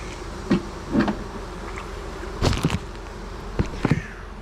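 Honeybees at an open beehive hum in a continuous buzz, with a few louder bee passes and soft knocks or clunks nearby.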